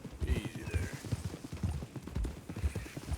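Rapid, rhythmic clip-clop of horse hooves while riding in the video game Red Dead Redemption 2, close and moderately loud with a quick galloping beat.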